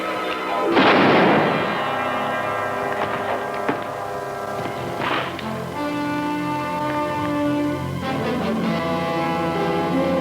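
A single loud, booming gunshot from a western gunfight in a radio drama rings out over sustained background music. A few fainter thuds follow as the music continues.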